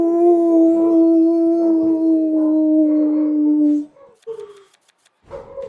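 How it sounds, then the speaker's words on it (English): Dogs at home howl loudly and close up, one long sustained wavering howl trailing off, followed by a few shorter yelping, whimpering calls with brief gaps between them. "Fucking squirrel walks by and they start howling."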